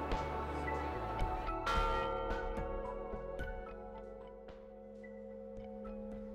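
Bell in the clock tower of Chioggia, Italy, struck close by with a bright clang and a long ringing hum that slowly fades, plus faint ticks and knocks of the clock mechanism around it.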